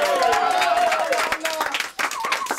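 An audience at a folk high school big band music event applauds a singer, with busy clapping mixed with voices and cheering throughout.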